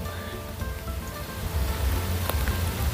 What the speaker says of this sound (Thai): ฝนกับกลังตกครับ